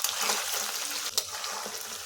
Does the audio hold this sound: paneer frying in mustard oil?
yes